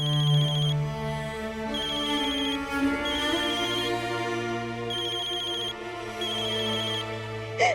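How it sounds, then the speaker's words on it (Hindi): A phone ringtone for an incoming call plays as a loud, steady repeating electronic melody, alone, with no one talking. "ये लो, तुम्हारे भाई का फोन है, बात कर लो।"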